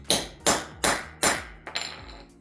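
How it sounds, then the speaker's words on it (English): Four sharp metallic hammer blows in a steady rhythm strike a cable terminal to crimp it during alternator and starter wiring work on a Lotus Europa, followed by lighter clinks. "And then good old hammer."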